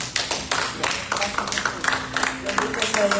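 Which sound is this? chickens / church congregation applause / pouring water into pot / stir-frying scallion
church congregation applause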